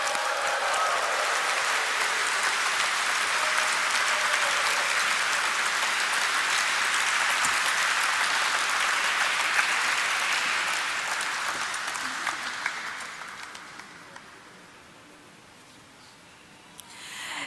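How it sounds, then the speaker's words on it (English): A crowd applauds at a company's stock listing ceremony, a long, loud, even burst of clapping that gradually fades out and stops near the end. "let us have a resounding of claps to mark the celebrations"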